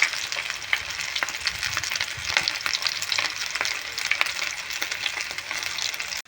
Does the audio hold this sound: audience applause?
no